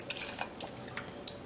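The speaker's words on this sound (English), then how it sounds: "So I'm going to be adding up just a little water" Water trickles and drips onto chopped carrots in a blender jar, faint splashy spatters in short bursts with no voices.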